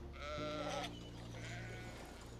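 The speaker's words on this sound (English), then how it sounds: "How are you, sheep, Kev?" A sheep bleats in a long, wavering, harmonic cry that continues near and clear through the whole moment, over a steady low background hum, with no talking.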